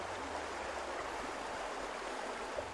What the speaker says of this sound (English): We've come over to get a closer look at the weir